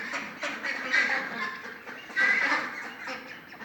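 Young ducks about a month old in a poultry pen, a flock quacking and honking close by in a continuous busy chatter with louder calls rising now and then.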